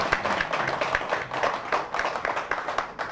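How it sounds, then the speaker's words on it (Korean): A small church congregation gives a brief round of applause to welcome a member home from military service, a few seconds of light, rhythmic clapping from a modest group nearby. "우리 잠깐 인사하고 박수로서"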